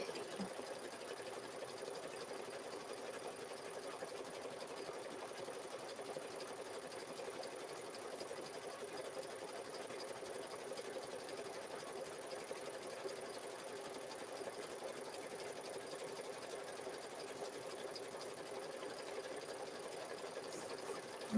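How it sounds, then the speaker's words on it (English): An embroidery sewing machine stitches a zipper bag in the hoop, giving a steady, unbroken mechanical whirr that is faint and constant throughout, with no other sounds. "Stitching away."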